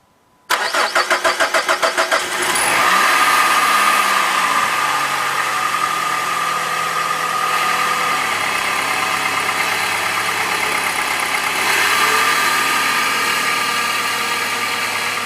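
A 2001 PT Cruiser engine cranks briefly with a rapid whir, catches loudly, then settles into a steady, close idle that holds without pause.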